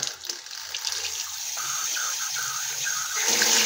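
Water runs and gushes into a basin of white clothes set to soak, a close, steady pouring stream that grows fuller and louder toward the end.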